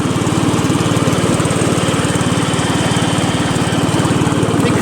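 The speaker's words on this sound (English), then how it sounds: "The mower deck started moving by itself." A Craftsman LT1000 lawn tractor runs up close with the mower deck engaged, its engine droning steadily and loudly with a fast, even pulse and a continuous whirring hum throughout, with no talk over it.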